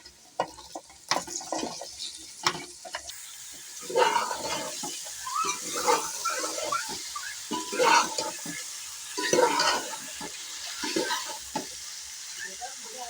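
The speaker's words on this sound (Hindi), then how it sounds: "अभी जो है हम इसके अंदर जल्दी जल्दी से लौकी डाल देते हैं" Bottle gourd frying in spiced oil in a pan, a steady sizzle with bursts of stirring and clatter, heard close and alone.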